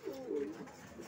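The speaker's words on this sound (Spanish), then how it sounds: "¿Cuántas palomas aquí? Aquí es donde tengo concentrado la mayoría de todos los palomos míos." Pigeons cooing inside a loft where a breeder keeps most of his birds, a soft, low, rolling coo close by, heard alone without speech.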